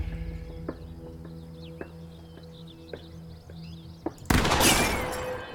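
Quiet ambient tones with a few soft ticks, then a sudden sharp gunshot crack and glassy shatter of a target in the video game The Quarry that rings out and fades.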